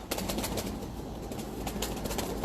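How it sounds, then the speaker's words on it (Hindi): Pigeons on a rooftop in Lahore coo softly and continuously, a steady low murmuring of several birds close by, with faint intermittent wing flutters and no talk. "ये हमारे साथ ना कबूतर हैं।"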